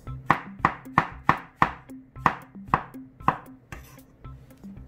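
A knife slices onion and mushroom thinly on a cutting board for a potato tortilla pizza, landing about a dozen crisp, evenly spaced chops up close with no talking.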